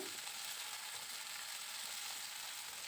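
Okra stir-fried with salt in a pan gives a faint, steady sizzle with a soft hiss throughout, quiet and close, with no voices.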